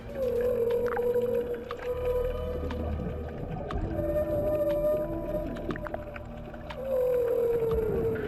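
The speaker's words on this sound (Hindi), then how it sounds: "जब दोनों एक साथ तैरते हैं तब ये खास तरह का साउंड निकालते हैं जिसे व्हेल सॉन्ग भी कहा" Whales swimming together underwater give long, moaning tonal calls that rise and fall, loud and close over a constant wash of water and low rumble.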